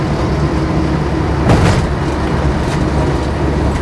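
A Land Rover Series 3 88-inch soft top with leaf-spring suspension and freewheel front hubs, heard from inside while driving: a loud, steady rumble of engine and road noise with a brief bump partway through.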